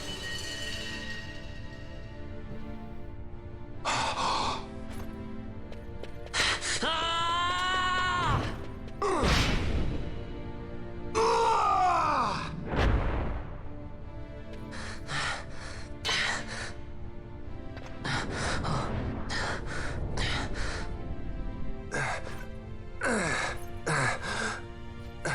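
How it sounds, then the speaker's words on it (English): Heavy, drawn-out breathing and sighing from characters in Final Fantasy XII: The Zodiac Age, rising and falling in long, close gasps over a layer of game music, with no talking. "Lots of heavy breathing going on right now."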